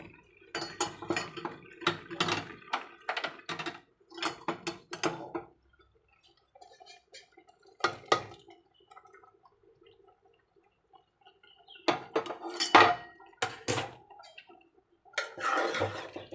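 A taro and dried prawn curry is stirred in a pot, with loud bursts of utensil scraping and clanking against the metal that come and go between quiet pauses, no talk.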